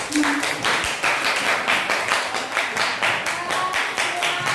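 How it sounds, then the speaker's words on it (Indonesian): A classroom group applauds a student named Irsyad with brisk, rhythmic clapping that carries on steadily for several seconds, close and fairly loud. "Beri tepuk tangan buat Irsyad."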